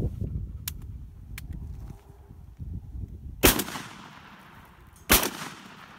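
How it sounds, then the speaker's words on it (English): Two loud shotgun blasts from a Tula-made TOZ-66 12-gauge side-by-side coach gun, a few seconds apart, each ringing out with a long echoing tail, over a low rumbling outdoor background with faint clicks between. "we'll shoot it off and see how we go with it."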